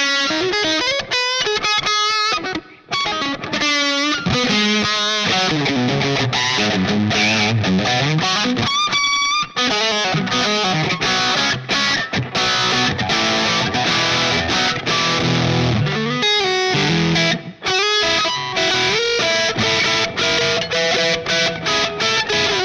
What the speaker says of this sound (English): Let's hear it, the classic distortion or the rat.